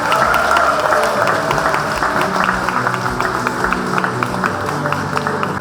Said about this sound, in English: Big round of applause for these four.